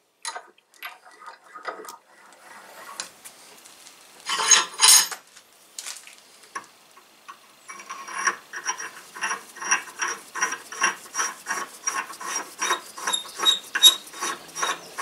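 A homemade Acme tap is turned by hand to cut threads in a home workshop, giving sparse metallic clicks and scrapes at first, then a steady run of rhythmic ratcheting ticks that grow louder and closer.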